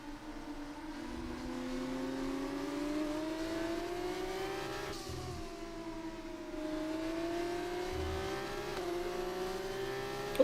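Race car engines whine through rising gears during an overtake on the outside in F1 24, a high, steady engine note climbing and dropping with shifts, continuous and close.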